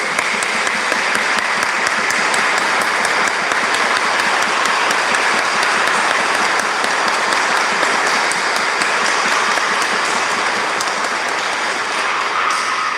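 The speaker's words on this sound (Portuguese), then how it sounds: "vamos dar a nossa salva de palmas" Dense, sustained applause from a large church congregation fills the whole stretch, steady and loud with no pause.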